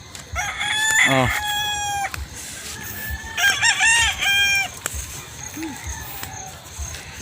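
Roosters crow near a rural house in two long, loud calls with layered harmonics, one near and one following after a pause, with clucking and faint outdoor noise between and a brief voice.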